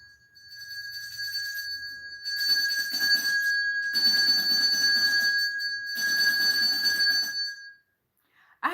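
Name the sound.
bell being rung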